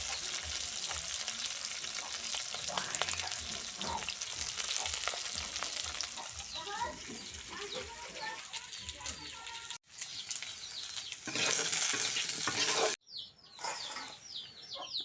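Stinging catfish and potato pieces frying in hot oil, a continuous crackling sizzle up close with occasional stirring clatter, broken by two brief cuts, while a hen clucks faintly in the background.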